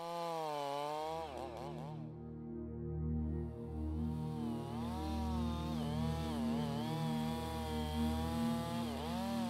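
A chainsaw bucks a felled tree while the faller kneels on top of the trunk, its engine snarling steadily and loud throughout, the pitch dipping and rising repeatedly as the chain bites into the wood.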